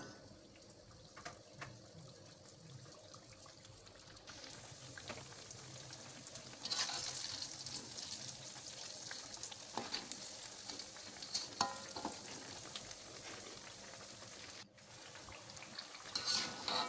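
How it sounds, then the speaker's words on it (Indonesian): Steady sizzling and crackling of cireng (fried tapioca snacks made from leftover rice) frying in oil over low heat, fairly quiet and continuous, with occasional soft clinks. "Kita goreng hingga matang."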